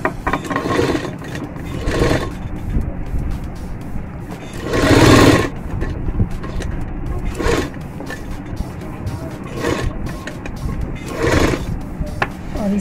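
A sewing machine stitches a plain salwar in short whirring runs every couple of seconds, the longest and loudest burst in the middle, with quiet pauses between.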